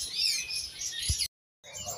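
Songbirds at a bird market kiosk chirp in rapid, bright, overlapping trills, fairly loud and close, broken by a brief dead silence before the chirping resumes.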